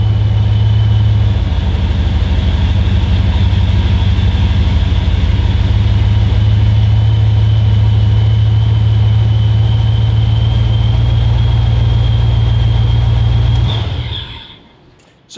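A car engine with a GM Gen V engine idles slightly low, a steady deep, even rumble and faint high whine for a long stretch, then shuts off and falls quiet.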